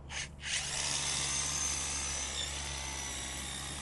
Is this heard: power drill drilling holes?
yes